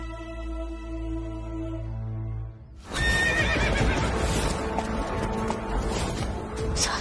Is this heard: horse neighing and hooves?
yes